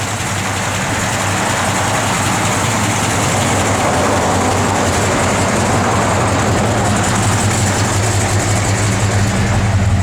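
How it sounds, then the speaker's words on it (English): A 1965 Chevrolet Malibu SS with a 427 V8, lumpy cam and full roller valvetrain idles steadily and loudly up close, with a constant rumbling drone. "Car sounds good, man."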